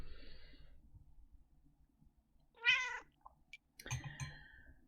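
A cat gives one clear meow in an otherwise quiet room, followed by a few softer chirps and a second short vocal sound, all faint and close with no talking.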